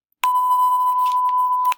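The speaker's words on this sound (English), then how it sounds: "have it beep at the beginning, pressing play on that beep again" A single steady electronic timer beep marking the start of an interval, one clean sustained tone lasting about a second and a half, loud and close, beginning and ending with brief clicks.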